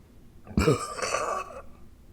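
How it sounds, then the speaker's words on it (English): A single long, rough burp, close to the mic, lasting about a second with a gravelly throaty rasp before trailing off, and no talking around it. "That's a weird burp."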